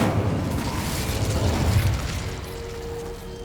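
Fiery Incendio spell blast in Hogwarts Legacy, a loud, rumbling burst of flame with crackling, mechanical clatter that holds steady for a few seconds before thinning into a quieter, lingering hum.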